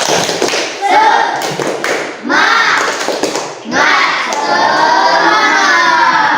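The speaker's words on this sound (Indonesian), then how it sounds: "Oke, tepuk semangat." A primary school class claps out a rhythmic 'tepuk semangat' chant, bursts of sharp unison clapping mixed with children's loud chanting voices, rising toward a sustained shouted finish.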